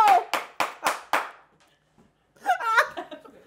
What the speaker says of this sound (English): She's a very loud clapper.